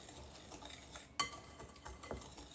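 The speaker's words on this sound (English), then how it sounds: "it says to whisk all of this together," A whisk or utensil stirring dry granny cake ingredients in a bowl, with quiet scraping and a few sharp clinks against the side, faint and close.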